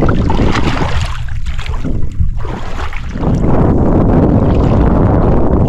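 Strong wind buffets the microphone in a loud, gusty roar over the rush of choppy sea water and a boat's motion, easing briefly before surging again.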